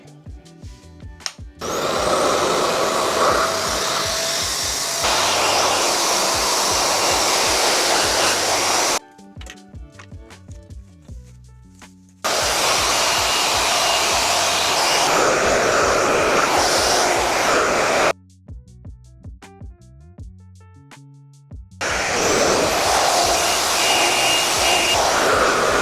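A RevAir hair dryer runs on heat level 2 in loud, steady whooshing blasts, switching on and off three times with short quiet gaps between runs.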